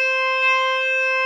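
A single sustained distorted electric guitar note from a solo rings clearly and steadily, loud and alone.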